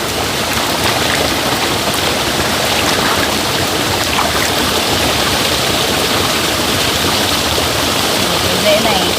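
A clear mountain stream running through forest, its steady broadband rush of flowing water loud and close, unbroken throughout.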